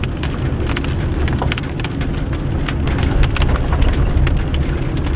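Steady rain pattering on leaves and wet ground in a coastal Pacific Northwest forest, a dense continuous patter with scattered sharper drips, close and fairly loud throughout with no voices.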